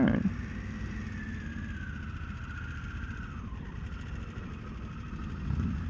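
Harley-Davidson Pan America 1250 motorcycle engine running at a low idle, a quiet steady rumble heard close with wind noise, a brief louder thump at the start and end.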